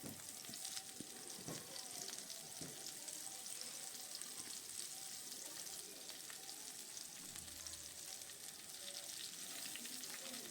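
Steamed cauliflower florets frying in hot oil in a pan, a steady dense sizzle throughout with occasional soft stirring scrapes, close and continuous.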